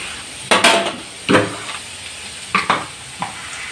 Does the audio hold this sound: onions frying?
yes